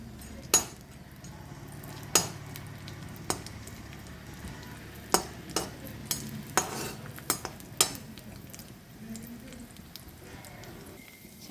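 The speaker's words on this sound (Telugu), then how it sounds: "నెయ్యి వేసుకున్నాను, అందులో పుచ్చగింజలు వేయించుకుంటున్నాను." Watermelon seeds roast in ghee in a kadai with a low, steady sizzle, broken by a series of sharp metallic clinks and scrapes as a utensil stirs against the pan.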